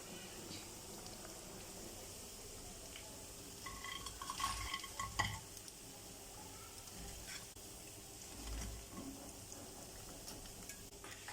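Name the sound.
beef bajji frying in oil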